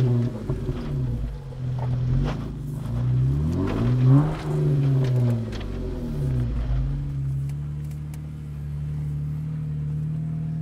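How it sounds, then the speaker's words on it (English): Jeep Wrangler JKU engine motoring slowly over off-road terrain, a close, steady low rumble with rising and falling revs midway before settling to an even idle-like drone. "let's just kind of keep motoring here"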